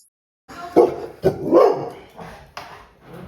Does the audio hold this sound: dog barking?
yes